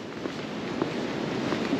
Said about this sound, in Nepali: हावा हो